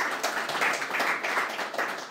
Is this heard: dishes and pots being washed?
no